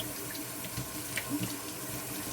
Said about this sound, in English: And then I rinse it.